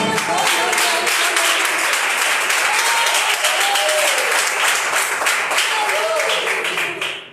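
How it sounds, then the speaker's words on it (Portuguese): Church congregation applauding after a Bible reading during a service, loud dense clapping sustained for several seconds with faint voices mixed in, tapering off at the end. "uma salva de palmas para a palavra do Senhor"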